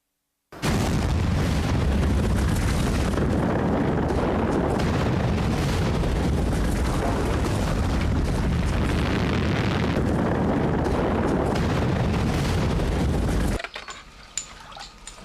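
Toba supervolcano eruption in Sumatra rendered as a massive, sustained explosive roar, a loud, dense rumble that rolls on for about thirteen seconds before cutting off abruptly to near quiet.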